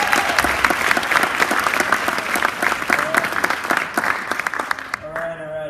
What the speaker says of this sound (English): one more round of applause for Louisville's own, homegrown, my friend, J.K.